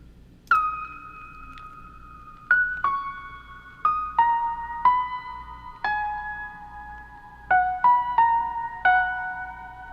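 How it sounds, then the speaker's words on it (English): Ambient space piano patch from the Omnisphere synth playing a slow top melody in a lo-fi chill beat, single bell-like notes ringing out one after another over a quiet low hum, no talk. "I reached for the ambient space piano in Omnisphere and created this nice top melody"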